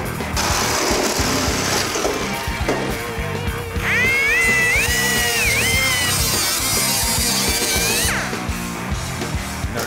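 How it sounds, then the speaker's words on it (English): Air chisel cutting through a rusty car body panel on a Mercury Comet, a steady loud buzzing rattle that runs throughout, with a harsher screeching squeal from about four to eight seconds. "with this much rust, you can't tell where the welds are, so an air chisel's the answer."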